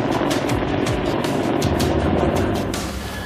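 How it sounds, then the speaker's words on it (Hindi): A Chinook helicopter landing on a runway at an Indian Air Force base, with a loud, continuous rotor thrum and whining engine roar that slowly lowers in pitch, and no speech. "चुनूक हेलीकॉप्टर ठीक हमारे सामने रनवे पर लैंड करता हुआ"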